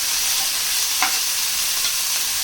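Ivy gourd, brinjal and ridge gourd sizzle steadily in oil in a pan, a constant close hiss with a brief stir or clink near the middle and no talking.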